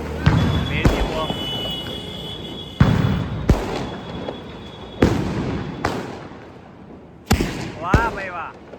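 Methi bomb firecrackers set off during a family Diwali celebration: a string of sharp, loud bangs spaced a second or two apart, each followed by a short rumbling decay, with people talking and shouting between the blasts.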